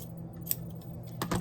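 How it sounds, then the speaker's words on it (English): Scissors trimming Dollar Tree fall decor, a few quick close snips and crisp clicks, the loudest cluster near the end, quiet and brief. "Trim it just a little bit"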